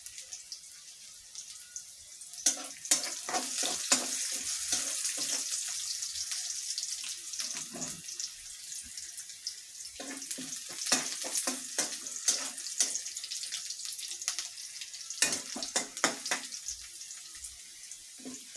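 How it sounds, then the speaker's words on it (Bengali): Onions fry in a pan with a steady hiss and sizzling crackle throughout, broken by repeated stirring scrapes and clinks of a utensil against the pan; no voices. "আমার পেঁয়াজটা ভাজা হয়েছে। এখন আমি মাংসগুলো ছেড়ে দিব।"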